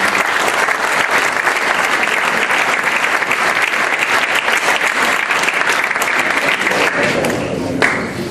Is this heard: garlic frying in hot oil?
no